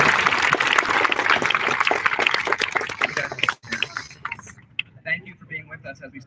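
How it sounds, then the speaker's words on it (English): Audience applause for school staff at a promotion ceremony, a dense patter of clapping for a few seconds that thins out into scattered claps and room noise. "Let's have a round of applause for our Steinhauer proud staff."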